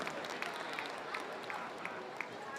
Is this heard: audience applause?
yes